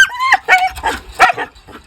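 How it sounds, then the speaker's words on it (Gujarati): A German Shepherd barks close by in a quick series of sharp, yelping barks with short gaps between them, and no voices are heard. "German shepherd."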